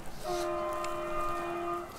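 A train horn sounds one sustained, steady blast that lasts most of the moment and then cuts off. It comes across moderately loud, over a quiet rumbling background, with no talk.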